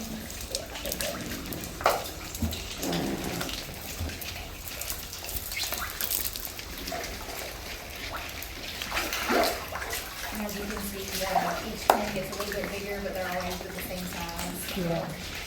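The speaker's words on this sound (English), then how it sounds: "Just wash your hands." Running tap water splashes steadily as hands are washed at an outdoor gator farm, with people's voices talking over it throughout.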